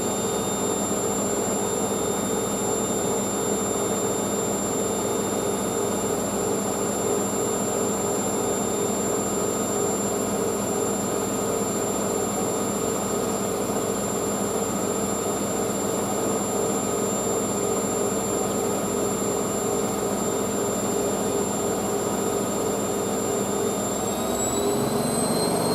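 A Hoover SIX AAA160 Whisper 1600 vacuum cleaner runs steadily at close range for the whole stretch, a loud, smooth whine with high tonal hums, rising slightly in pitch near the end.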